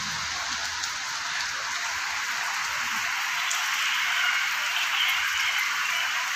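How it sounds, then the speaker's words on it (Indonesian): Heavy rain pours down steadily with strong wind outdoors, a dense continuous hiss of drops on surfaces with no break and no voices. "Tiba-tiba hujan dan angin cukup kencang."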